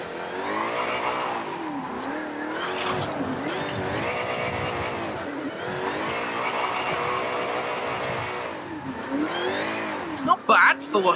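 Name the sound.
2015 Ford Mustang GT engine in Forza Horizon 5 video game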